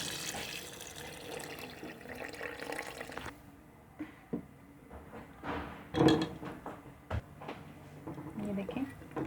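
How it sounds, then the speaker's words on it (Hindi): About two glasses of water poured into a pot of beef and tinda gourd curry, with splashing and trickling bursts between quieter moments and someone speaking nearby. "इसलिए मैं इसमें तकरीबन 2 गिलास के बराबर पानी ऐड कर रही हूँ।"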